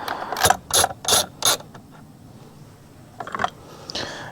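A hand ratchet loosening the two 10mm bolts on a Honda Pioneer battery bracket, giving four loud, close bursts of rapid clicking, then a pause and a few more ratcheting strokes.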